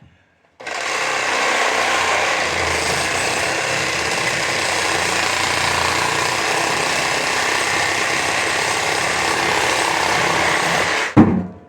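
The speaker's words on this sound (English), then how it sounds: "I'll show you how easy this is to cut, just with a Sawzall and a metal blade" A reciprocating saw fitted with a metal blade cuts through a steel-wire-reinforced hose, a steady loud buzzing rasp running continuously for about ten seconds, with no talk, and ending abruptly.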